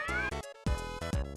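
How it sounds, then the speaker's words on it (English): Outside, a cat gives a run of short meows, about four or five clear cries with brief pauses between them, close and fairly faint. "super meowing outside"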